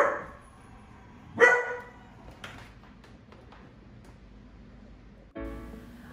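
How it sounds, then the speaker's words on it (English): A pet dog gives a single loud bark near the start, then a few fainter yips trail off, with a sharp knock or thud near the end, recorded indoors in a home painting studio. "you don't want to hear my dog bark anymore"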